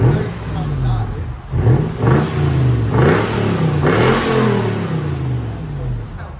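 A 2007 Lexus GX470 with a 4.7L V8 and Carven TR-Series exhaust revs repeatedly, several rising and falling throttle blips close by with a deep exhaust note, over a steady idle.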